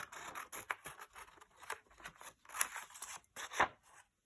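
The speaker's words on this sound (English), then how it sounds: "So get a scissors, do some more rough cut." Scissors snip through paper in a quick series of soft, crisp cuts, close by and fairly quiet, with brief pauses between strokes.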